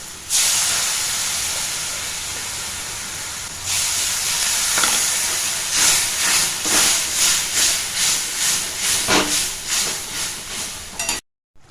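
Water from rinsing a bowl of ground cashew paste goes into a hot pan of potato and bitter gourd curry. It sets off a loud, close hiss of steam that keeps going, then pulses and fades before stopping abruptly.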